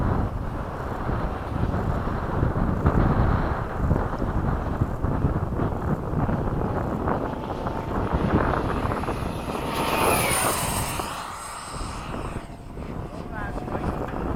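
An FMS 70mm F/A-18 radio-controlled model jet flies at a flying field, its ducted-fan whine a steady, rushing roar that swells as it passes nearer, then fades slightly.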